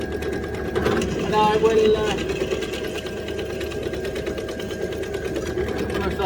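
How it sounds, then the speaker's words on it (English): A drill bores out a part for a Suzuki GSX custom build's forward controls, a steady, loud mechanical whir running continuously while someone speaks briefly over it. "We'll work our way through, get this drilled out."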